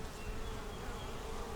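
Honey bees hum steadily around small nuc hives in a South Carolina bee yard, a dense, continuous close buzz with no pauses and no talking.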